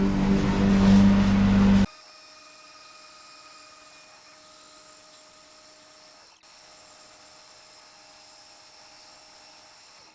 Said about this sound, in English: Let's go to the bandsaw and see what we can do here.